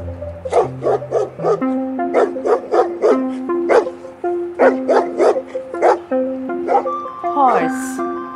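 A dog barks repeatedly in quick, rhythmic bursts, close and clear, with some yips and a whining note near the end.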